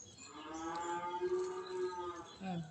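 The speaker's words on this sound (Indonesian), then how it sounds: "Sapi ini Mbak Deni kok meh-meh ya" A cow gives one long, drawn-out moo at moderate distance, rising and holding for a couple of seconds before tailing off, with no talk over it.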